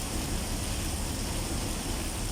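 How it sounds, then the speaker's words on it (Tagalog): Steady rain falls in Batangas as an unbroken, dense hiss that stays close and constant throughout, with no voices heard. "umuulan dito sa Batangas"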